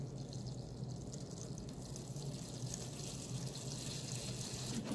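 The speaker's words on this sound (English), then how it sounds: "Let's see if I can lift this and put some water in this tray." Water poured into a seedling tray with damp soil and seeds, a steady close splashing trickle lasting several seconds with no talk.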